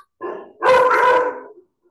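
Pet dogs in a home bark close and loud, with a short bark followed by a longer, howling bark.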